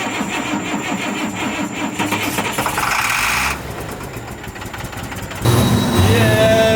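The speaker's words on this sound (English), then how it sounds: "The engine started" A diesel bus engine with a bad fuel leak cranks and catches after dark in Costa Rica, a dense rough mechanical rumble that shifts and then settles into a louder steady run near the end.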